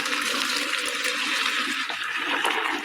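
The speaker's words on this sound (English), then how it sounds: "let's drain the pasta" Pot of cooked pasta being drained, the water poured off in a loud, steady gushing rush that splashes without a break for a few seconds.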